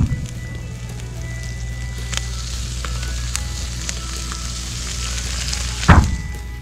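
Shishito peppers blister on a grill with a steady, soft sizzle and crackle, close by, with a single louder thunk near the end.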